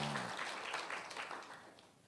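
A church congregation claps during a sermon, a dense, fairly distant wash of applause that holds steady and then fades out over a couple of seconds.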